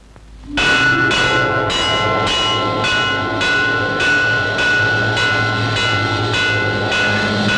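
A temple bell rings out loudly in a Tamil film, struck repeatedly in a steady rhythm with long resonant ringing tones overlapping between strikes.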